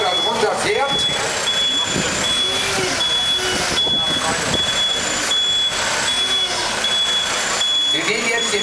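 A truck's reversing alarm beeps steadily and evenly as the vehicle backs slowly under a swap body container at a trade show. The beeps sit over a running engine and hall noise, with someone talking throughout.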